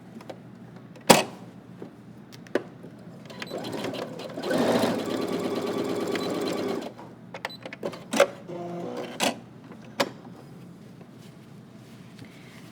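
A sewing machine stitches a slacks side split, a dense steady burst of running stitches for a few seconds in the middle, framed by scattered clicks and handling knocks, close and alone with no talk.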